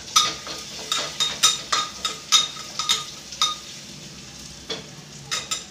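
Onion and garlic sizzle in a pan as they brown, with a close, repeated rhythm of scraping spoon strokes and light metallic clinks over the steady frying hiss.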